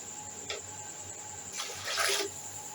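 Water from a cup is poured onto rice that has soaked for an hour, a chicken pulao in progress, heard as brief splashing pours with a louder final gush.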